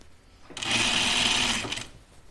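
A sewing machine runs a single steady burst of about a second while stitching a Willow tank dress, loud and close, after a quiet moment of room noise.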